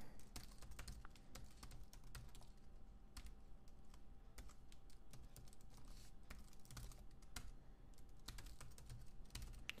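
Rapid keystrokes on a computer keyboard as an email and password are entered, a steady stream of light clicks with occasional louder taps, faint and close, without any talking.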